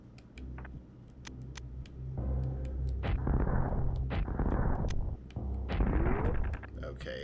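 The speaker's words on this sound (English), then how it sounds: "I guess I can just try all of my other missiles." Missiles fired in the Super Metroid video game, a series of sharp repeated shots followed by several louder booming blasts, with a person talking over the game sounds.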